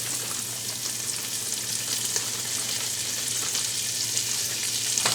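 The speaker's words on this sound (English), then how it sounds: "Then we're gonna saute some onions I already have cut up." Chopped onions sauté in a pan for a dense, loud, continuous sizzle that holds steady throughout, close up with no speech.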